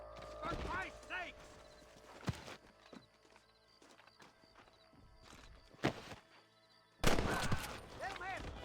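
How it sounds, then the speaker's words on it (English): Horse hooves clip-clopping in the Western video game Red Dead Redemption, a faint, uneven rhythmic patter under bursts of shouting voices and a few sharp gunshot-like cracks. "Little man, watch out for the horse."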